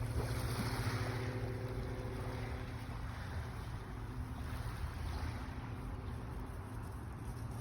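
Calm sea at the Lee-on-the-Solent shore near Portsmouth, with sailboats out: a steady, soft wash of gentle water and light wind noise across the microphone, continuous and fairly faint, with no voices.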